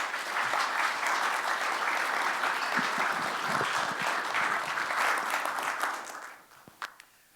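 An audience at a symposium applauds to welcome two scholars to the stage, dense sustained clapping that holds steady for about six seconds, then thins to a few scattered claps and fades out.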